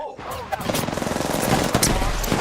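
Peacekeeper shotgun in the video game Apex Legends, with a charged shot: rapid crackling gunfire and a sharp blast amid continuous game noise, loud and close, mixed with other weapons firing.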